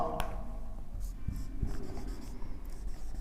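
Chalk or a marker scratches across a classroom board during a grammar lesson, faint scattered taps and strokes under quiet room noise.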